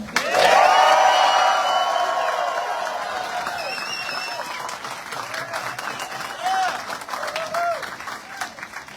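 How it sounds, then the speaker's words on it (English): A crowd at a bike park ribbon cutting and opening bursts into loud cheering and applause that slowly fades, with scattered whoops and voices trailing off. "let's just have a nice big cheer for what you really think about all this"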